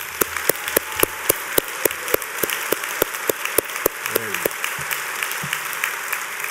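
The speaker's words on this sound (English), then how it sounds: "So let's do a really hard applause for all tonight's award recipient," An audience at the 2013 PMI awards ceremony claps in a steady, even rhythm of sharp beats at a moderate level. The clapping fades slightly toward the end.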